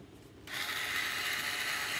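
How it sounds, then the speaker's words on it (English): A small cheap screwdriver drives a part back into a single-cup turner until tight, giving a steady close ratcheting, grinding whir that starts abruptly after a brief quiet moment and runs continuously. "I'm just screwing it back in all the way until it won't screw in anymore"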